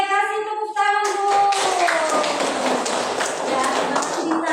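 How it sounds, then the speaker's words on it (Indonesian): An audience in a classroom session bursts into hand clapping after a voice, the claps quick and dense and continuing steadily to the end, fairly close. "Oke, kasih tepuk tangan Bu."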